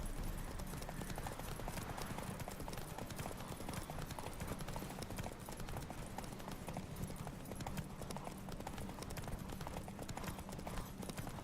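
A horse gallops in a video game race, its hooves thudding in a fast, steady clip-clop rhythm amid dense, continuous noise, fairly faint overall.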